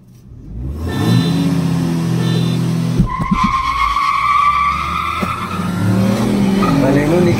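A Tata Punch and a Maruti Baleno launch side by side in a drag race, engines revving hard with tires squealing, then pulling away loudly as people talk over them.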